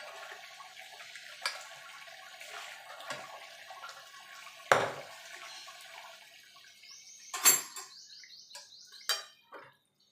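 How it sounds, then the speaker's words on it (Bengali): Water is poured into a pressure cooker while a jackfruit curry is being cooked, giving brief splashing pours and light clatters between quiet gaps, close and fairly soft. "জল দিয়ে দেবো।"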